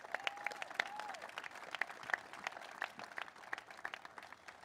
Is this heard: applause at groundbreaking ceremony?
yes